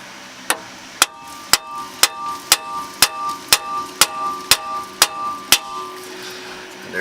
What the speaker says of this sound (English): Brass hammer.